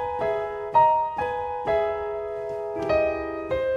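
Piano playing a passage of Kapustin's Concert Etude No. 7 as written, a series of sustained chords struck in a steady rhythm with ringing overtones, close and moderately loud, no talk.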